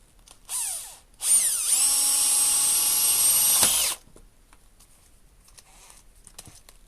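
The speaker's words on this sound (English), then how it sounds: "Tell the drill's getting old." A power drill with a 38mm bit whines loudly for a few seconds as it bores through wood, preceded by a short spin-up burst, then stops. The drill is old.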